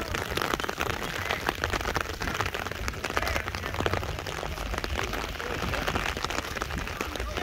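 Steady, dense rain patter fills the whole stretch during a sports game, a constant hiss of drops on surfaces with faint crowd-like noise beneath.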